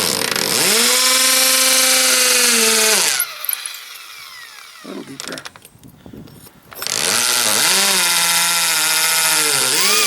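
Power drill boring screw holes into concrete for mounting an exterior hose spigot, two loud, sustained whining bursts at close range with a quieter pause of scraping and handling between them.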